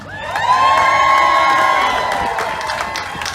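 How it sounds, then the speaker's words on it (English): A large crowd cheers and shouts together on cue at an outdoor gathering, a loud sustained roar with high whoops and children's shrieks that swells quickly and slowly fades over a few seconds. "now cheer again"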